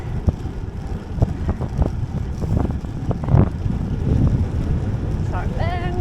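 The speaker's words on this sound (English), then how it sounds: "This is where I now turn to get absolutely pelted by this headwind." A strong cold headwind buffets a cyclist on a quiet road, a continuous close low roar and rumble of wind against the microphone lasting throughout, with brief faint tonal chirps near the end.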